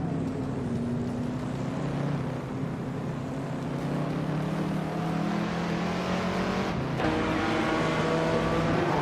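Race cars, including a 1968 Mercedes-Benz 300 SEL, roar around a track in a racing video game, with layered engine drones rising and shifting as cars pass, loud and continuous.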